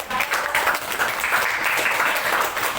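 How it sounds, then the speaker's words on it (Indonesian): Class at a physical education lesson applauding a student after a basketball dribbling demonstration, dense steady clapping from many hands, close and fairly loud throughout. "Tepuk tangan dulu untuk Yo."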